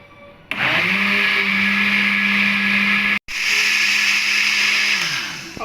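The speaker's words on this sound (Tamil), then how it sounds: "இப்போ நம்ம இதை என்ன செய்ய போகிறோம்னா அரைக்க போகிறோம்" An electric mixer grinder whirring loudly as it blends a chocolate ice cream mixture, a steady high motor whine running in two long bursts with a short stop between, no talk.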